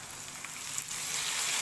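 Tomatoes sizzle and fry in a pan of garlic and ginger for aloo palak, a steady, close, bright hiss throughout with no talking.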